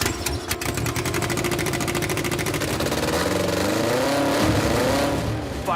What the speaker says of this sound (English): Firing that engine for the first time,